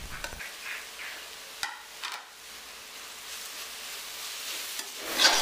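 Onion and grated coconut fry in a pan as a spoon stirs them, a soft continuous sizzle broken by a few scraping strokes, fairly quiet and close.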